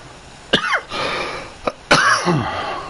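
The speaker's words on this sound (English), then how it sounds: "You'll have to excuse the coughing." Two sharp, loud coughs ring out about a second and a half apart, with a smaller throat sound between them, close to the microphone during a 1961 Buffalo at Green Bay football game broadcast.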